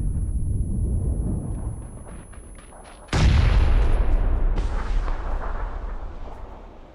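Grenade blasts in a shooter video game: a rumbling low explosion fades out, then a second sharp, loud blast hits and rolls on with heavy low-end boom and debris noise, no talking.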